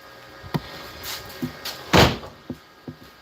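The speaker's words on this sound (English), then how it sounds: "Sorry about that bang. That was the back door of the garage." The back door of a garage, left open for ventilation, bangs shut with one loud, close slam, set among several smaller knocks and thuds.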